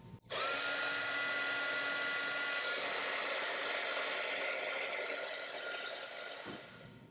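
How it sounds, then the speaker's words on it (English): A Doris heat tool blows hot air onto embossing powder on Christmas tags, a steady whirring blast running almost unbroken for about seven seconds, close and even, with no talking. "I'm using this Doris heat tool"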